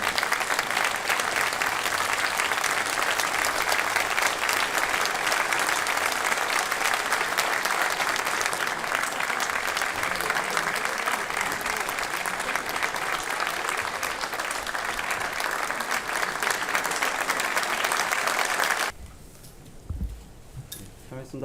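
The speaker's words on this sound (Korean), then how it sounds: "큰 박수로 함께 해주시기 바랍니다." An audience at a formal event welcoming the Canadian prime minister breaks into sustained, loud applause that holds steady for about nineteen seconds, then stops abruptly, leaving faint room noise.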